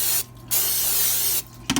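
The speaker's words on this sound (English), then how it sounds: "I'm going to spray this though." Pam cooking spray hissing onto an air fryer basket in two sustained bursts, each about a second long, loud and close, broken by a short pause, with a faint clatter at the end.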